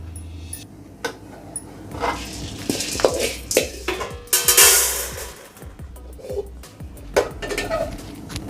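Chana dal is stirred while roasting in a pan, with close, uneven clinks and scrapes of a utensil against the metal, a few louder clatters, and a soft rustle of dry lentils between them.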